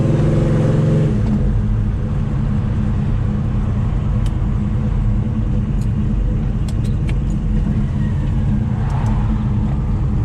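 A 1970 Chevelle with a 502 big-block V8 cruising, its deep, loud engine rumble steady and close throughout with only faint ticks above.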